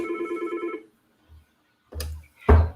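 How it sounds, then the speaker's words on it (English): A phone rings with a bright electronic tone that pulses rapidly for under a second, then gives way to short low knocks and handling noises in a quiet room. "I forgot to silence my phone."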